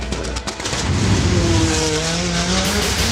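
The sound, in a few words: race car driving down orange Hot Wheels double loop track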